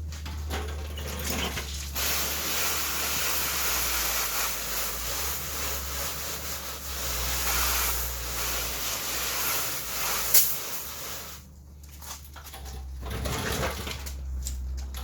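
A water spray pre-rinsing car panels, giving a steady loud hiss under a low hum, easing off briefly near the end before resuming, with no talking.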